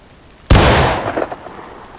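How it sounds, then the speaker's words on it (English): A musket volley fired in the War of Rights game during skirmish training: one loud, sharp blast that decays over about a second, followed by a few fainter scattered pops, with no talk. "Okay, shoot when you're ready."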